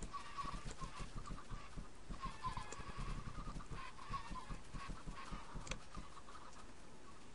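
Flock of chickens clucking in the Minecraft video game, a dense, steady run of short overlapping clucks and squawks at moderate level with no talk.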